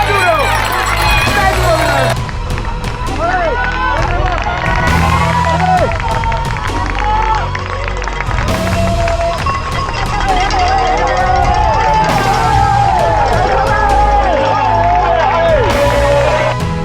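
Loud roadside crowd at the UTMB ultra-trail race in Vallorcine, France, shouting and cheering for a passing runner, with many voices and nearby talk blending into a continuous roar.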